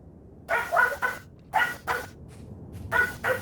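A small pug barks and yips in three quick clusters of two or three sharp barks each, close by and loud, over low background noise.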